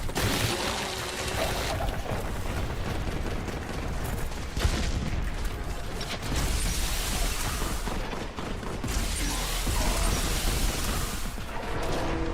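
Relentless plasma gun fire in the Warhammer 40K Boltgun video game, a dense, continuous roar of blasts and crackling impacts that stays loud throughout, with brief dips between bursts and no talking.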